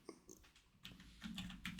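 Brief, faint typing on a computer keyboard, with a few quick scattered keystrokes followed by a short cluster of clicks.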